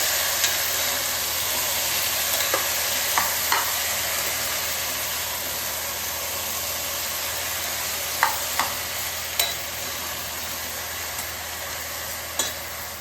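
Eggplant and potato pieces sizzle steadily in a hot pan while a spatula stirs them, with sharp scraping clicks popping out at irregular moments over the constant frying hiss.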